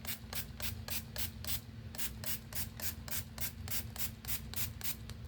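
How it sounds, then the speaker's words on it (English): A spray bottle mists water onto dyed paper in quick, even spritzes, roughly four per second, close and steady over a low constant hum. "So I'm going to go ahead and spray some more water."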